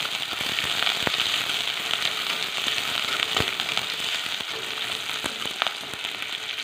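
Green chilli and onion stir-frying in oil for chivda, a steady loud crackling sizzle throughout with occasional sharp pops and stirring knocks, close up and without speech.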